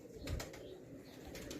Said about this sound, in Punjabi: ਮੇਰੀ ਦੇਖਣ ਵਿੱਚ ਟੈਡੀ ਕਬੂਤਰੀ ਨਜ਼ਰ ਆਉਂਦੀ ਹੈ